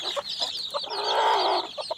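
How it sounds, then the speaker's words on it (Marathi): A hen clucks softly and repeatedly while chicks peep in high, chirping calls nearby. "आपल्या एक काळ्या कोंबडीने पिल्लं काढली"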